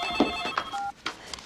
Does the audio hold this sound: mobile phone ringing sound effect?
yes